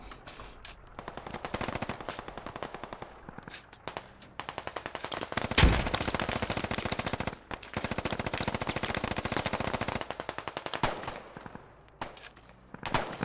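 Heavy machine gun fire in the military shooter Squad: long, loud rapid bursts of automatic fire with brief pauses between them and a heavier blast midway, no talk.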